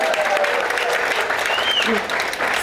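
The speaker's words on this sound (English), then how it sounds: "like Gloria Cota, let's give her another round of applause," A crowd applauds steadily at a school wellness center opening, brisk dense clapping throughout with some voices mixed in.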